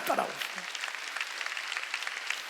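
A church congregation claps together during a Sunday service, a steady patter of many hands filling the room, with a voice heard briefly at the start.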